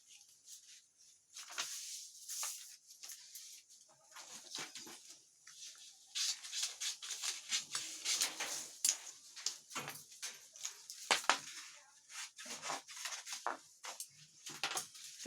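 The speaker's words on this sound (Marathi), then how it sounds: "बाही कटिंगसाठी पेपराचा फोल्ड करून घ्यायचा" Paper being folded and creased by hand for cutting a katori blouse sleeve pattern, giving repeated close crinkling and rustling bursts with soft taps, no talk.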